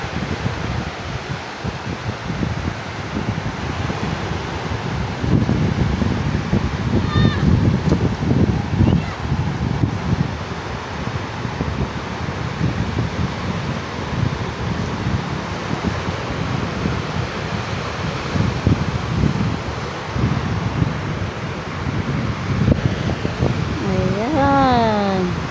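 Strong gusts from Typhoon Uwan buffet the microphone in an outdoor coastal area, a loud, sustained rumbling roar that swells and eases over about half a minute, with people talking over it.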